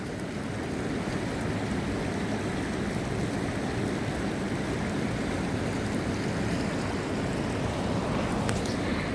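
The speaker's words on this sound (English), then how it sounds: "It's a bit of a water sound." High river water rushing near Hogsback Falls in Ottawa makes a constant, full-bodied churning hiss, close and steady without pause.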